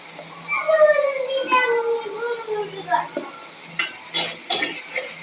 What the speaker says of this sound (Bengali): পরিমাণ মতো হলুদ দিয়ে নাড়াচাড়া করছে